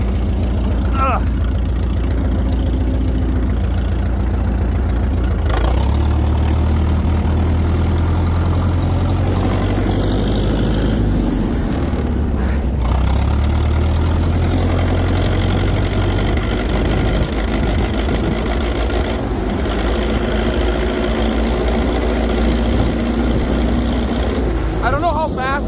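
A 1912 Continental race car engine runs steadily while the car is driven, a loud continuous low drone with rough mechanical texture throughout, and occasional background voice sounds.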